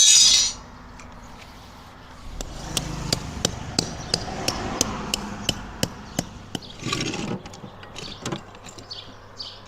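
A hammer taps fasteners into a gate plate in a steady series of sharp, evenly spaced strikes, about a dozen light knocks, after a brief burst of noise at the start.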